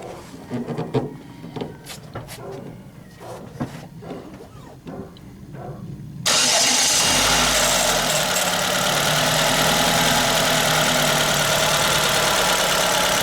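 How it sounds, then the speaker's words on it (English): A car engine cranks and catches partway through, then settles into a steady, loud idle that drones on to the end, after a stretch of quieter clattering and handling noises beforehand. "Go ahead and start the car."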